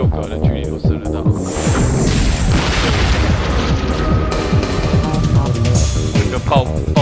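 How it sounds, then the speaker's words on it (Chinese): Explosion effect in a video game, a dense run of heavy booms and rumbling blasts that fills the whole stretch, loud and continuous with crackling debris on top. "这个爆炸特效做的还蛮新。"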